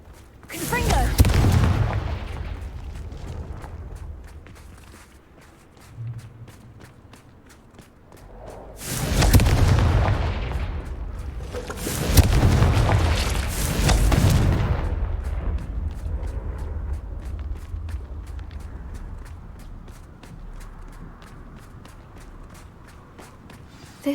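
Confringo fire spell blasts from the Hogwarts Legacy video game: three loud, close explosive bursts, one early and two more close together midway, each trailing into a rumbling low roar, with softer shuffling and faint game ambience between them.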